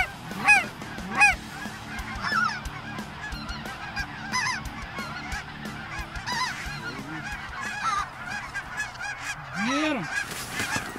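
Canada geese honk at a waterfowl hunting spot, with a few loud, nearby calls at the start and a busy chorus of overlapping honks continuing at varying distances.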